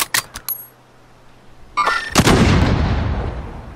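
Gunshots ring out in a battle royale shooter match, a few sharp cracks at first, then after a pause a louder burst of heavy fire with a booming, decaying tail.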